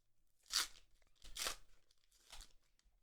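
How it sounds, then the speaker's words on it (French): Foil Panini trading card packs for Stranger Things being torn open, three separate short ripping bursts about a second apart, fairly close and crisp, with no talking. "on se retrouve là pour un petit déballage de cartes Stranger Things"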